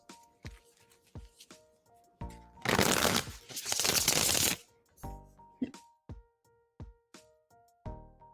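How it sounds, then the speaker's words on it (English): Tarot cards being shuffled at close range during a live reading: a run of crisp riffles and taps, then a few seconds of loud continuous riffling, then more separate slaps and flicks, with no talking. "I am shuffling for you now"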